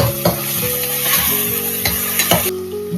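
Cauliflower, peas, carrot and beans sauté in a hot pan for biryani-style upma, with a loud, close sizzle broken by repeated scraping clicks of a spoon stirring, and no talking.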